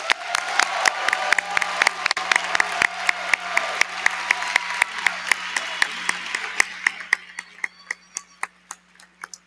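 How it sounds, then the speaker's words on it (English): An audience at a university commencement applauds newly commissioned second lieutenants, a dense burst of clapping that thins out over the final seconds into a few scattered, sharp, nearby claps. "Please give them a round of applause."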